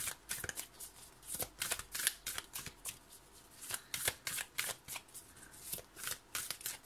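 Tarot cards being shuffled by hand, a quick run of soft riffling slaps in an uneven rhythm, close and fairly quiet, with no talk.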